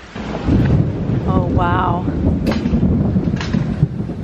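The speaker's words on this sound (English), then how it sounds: "it's intimidating thunder" Thunder rumbles during a storm at a resort, a low, continuous roll mixed with wind noise buffeting the microphone, while a person briefly exclaims.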